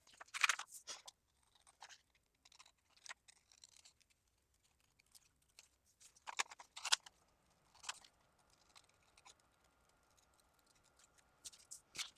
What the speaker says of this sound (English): I'm going to trim all of these out with my paper scissors and then cut them out of my various